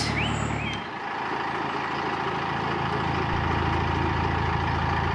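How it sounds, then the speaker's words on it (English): A narrowboat engine runs steadily in a low, continuous drone, with a brief dip in level before it settles back into a constant idle-like rumble. "Well, the engine's sounding much better."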